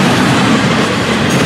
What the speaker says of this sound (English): And the opposing train, the northbound 704,